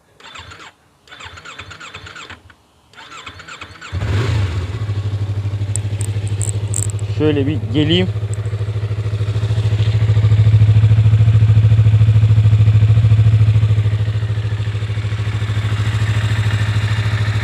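A Yamaha MT-25 motorcycle engine with stock exhaust starts up and settles into a deep, steady idle with a throaty rumble, rising briefly in revs, after a few spoken words at the start.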